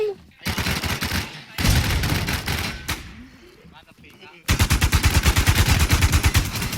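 Loud automatic gunfire in a video game rattles in dense bursts, with a brief lull in the middle before a long sustained stream of rapid shots; a voice talks briefly between volleys.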